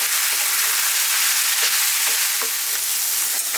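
Potatoes and peas fry steadily in a hot pan with chili powder, a dense continuous sizzle broken by occasional scraping clicks as they are stirred, close and fairly loud with no voices.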